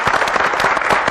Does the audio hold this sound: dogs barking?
no